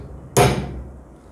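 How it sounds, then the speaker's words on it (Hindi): A single sharp hammer tap strikes the pin of a metal anchor fastener, a close, loud metallic knock that rings briefly and decays over about half a second. "इस पिन के ऊपर जब हमने हैमर टैप किया था तो ये एक्सपेंड हो चुका है"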